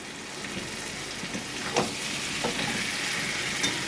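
Large chicken leg pieces sautéing in a hot pan for Bengali chicken kasa, with a steady close sizzle and a few soft scrapes and stirs of a spoon against the pan.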